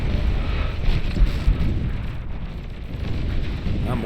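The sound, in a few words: EMP missile launches and explosions in Beyond All Reason video game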